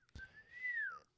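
A single clear whistle calls a horse in the Western video game Red Dead Redemption 2, a rising then gently falling tone lasting about a second after a short click, heard alone and fairly quiet.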